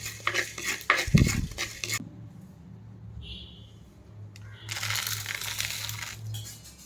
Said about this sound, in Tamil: அதையுமே வந்து நம்ம லைட்டாக ஃப்ரை பண்ணி வந்து எடுத்துக்கலாம்